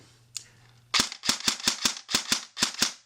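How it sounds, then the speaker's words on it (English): A KWA SR7 airsoft rifle (2013 edition) fires a quick string of sharp, snappy shots, about nine crisp reports in rapid rhythm after a single faint click, close and loud with no talking. "here's the gun firing"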